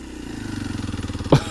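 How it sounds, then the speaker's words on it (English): A Kawasaki KLX230 S motorcycle rolls through a residential neighborhood, its engine giving a steady pulsing drone close by, with a brief sharper burst near the end. "through the neighborhood in the Kawasaki KLX230 S."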